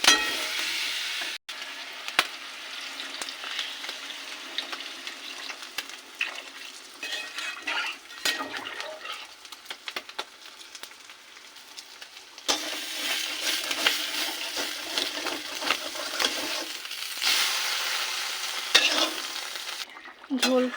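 Spice paste frying in a pan for an egg and pointed gourd curry, a continuous bright sizzle mixed with stirring scrapes and clinks of utensils, surging louder partway through as water goes in, with no talking.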